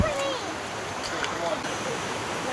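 A waterfall on Koh Chang island rushes in a steady broadband roar, with voices briefly heard over the water at the start.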